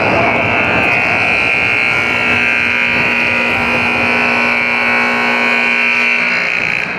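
A hockey game buzzer sounds as a steady electronic tone held for about seven seconds, loud and continuous over faint rink ambience.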